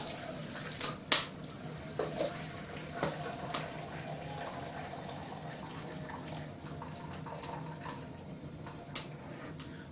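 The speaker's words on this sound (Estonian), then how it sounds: "nüüd ma nõristan ta siia" Boiled rutabaga is drained into a sieve, water pouring and splashing steadily at close range, with a few small clinks and knocks over the continuous rush.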